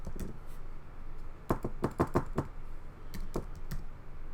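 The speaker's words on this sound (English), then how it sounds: "my ability to type is not very good today" Typing on a computer keyboard, close and fairly quiet, with quick irregular clusters of key clicks separated by short pauses.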